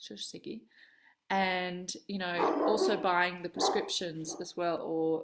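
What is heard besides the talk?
dog barking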